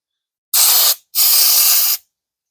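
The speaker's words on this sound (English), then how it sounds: "we're going to do that using brake parts cleaner" Two sharp bursts of brake parts cleaner sprayed onto greasy swivel bearings, a short hiss followed by a longer one, close and loud with nothing else around.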